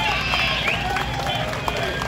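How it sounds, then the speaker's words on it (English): An audience at a Hendrick Motorsports fan day clapping, a brief dense patter of applause mixed with crowd murmur in a large room. "Yeah, you guys can clap for that."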